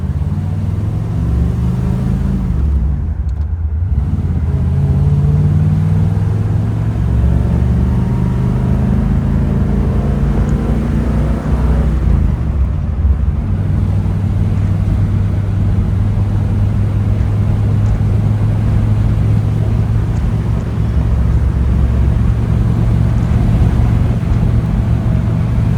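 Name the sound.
1956 Ford Fairlane Sunliner convertible driving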